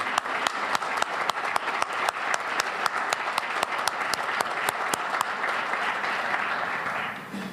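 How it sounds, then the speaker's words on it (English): Sustained applause from a seated audience at a Charlotte-Mecklenburg Police Department promotion ceremony, given for the officers' families. It is a loud, even roll of many hands clapping, with sharp individual claps standing out, and it fades slightly at the end. "Let's give a round of applause for sharing their loved ones with CMPD."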